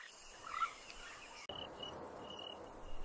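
Crickets chirp at night in a steady, shrill high trill that carries through the whole stretch, faint and alone with no voices.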